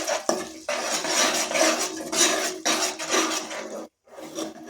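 A spoon scrapes and stirs spinach rice seasoned with salt and coriander powder in a metal pot, continuous close rasping and clinking strokes with a brief pause near the end, no talking.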